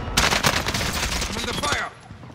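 Rapid bursts of automatic gunfire ring out in a video game firefight, dense and loud for about two seconds before cutting off.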